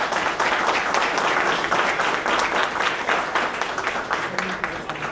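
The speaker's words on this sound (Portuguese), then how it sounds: "eu quero pedir uma salva de palmas às mulheres aqui presentes" A seminar audience at an agricultural self-regulation event applauding the women present: sustained, dense clapping from a large crowd, steady and fairly loud, tapering slightly toward the end.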